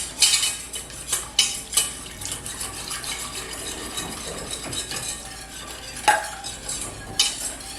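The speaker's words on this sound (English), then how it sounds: "just going to whisk this until it thickens" Whisk beating evaporated milk in a pot for mac and cheese, irregular metallic clinks and scraping taps against the pan, close and fairly quiet.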